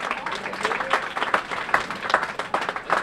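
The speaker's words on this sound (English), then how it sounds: "Give a round of applause for that." Audience applause at a Hispanic Heritage Celebration breaks into steady, dense clapping from a crowd in a hall, continuous and fairly loud across the moment with no voice over it.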